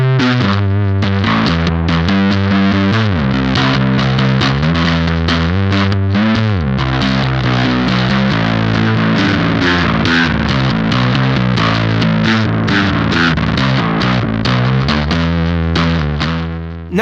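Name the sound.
guitar through Tallon Electric Dual Drive pedal, compressed setting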